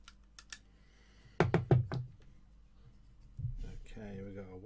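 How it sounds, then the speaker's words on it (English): Wire cutters snip component leads on a 1Hz-50MHz crystal oscillator frequency counter kit, giving a few sharp, close clicks and thunks among handling noise, with a brief stretch of speech near the end. "trim the leads off as before"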